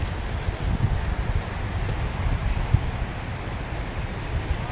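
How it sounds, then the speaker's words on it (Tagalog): Strong wind blowing through a rose garden in Taipei on a rainy day, heavy low rumbling buffets against the microphone with faint rustling, continuous and gusty, and no voices. "Grabe, ang lakas ng hangin."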